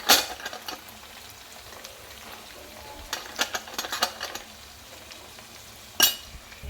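Vegetables for bhogi bhaji sauté in a pan, giving a soft steady sizzle broken by scattered clinks and scrapes of a spoon against the pan, with a sharper knock near the end.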